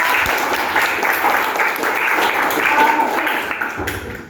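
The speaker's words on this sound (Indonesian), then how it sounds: "Tepuk tangan buat kelas 81." A school class applauding together in a classroom, a dense, even roll of clapping that holds steady and then tapers off near the end.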